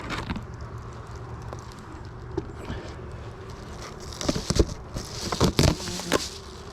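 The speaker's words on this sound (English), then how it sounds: "we got bees foraging, which is better than bearding." Bees forage around a beehive with a continuous close buzzing, and a few louder passes swell near the end as insects fly right by.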